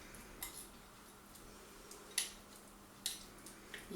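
A spoon stirs onion chutney into a casserole mixture, producing a few faint, sparse metallic clinks and taps against the bowl at irregular intervals over a quiet background.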